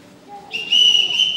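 A single whistle is blown to summon a household, a sharp sustained high tone that starts about halfway through and holds steadily to the end, with faint low sounds beneath it.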